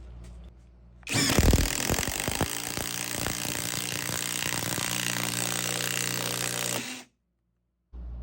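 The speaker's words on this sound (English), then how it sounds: "The Bauer brushless impact driver's actually pretty good" Bauer brushless impact driver running in a workshop, a loud continuous rapid hammering rattle that starts abruptly and holds for about six seconds before stopping, no talking.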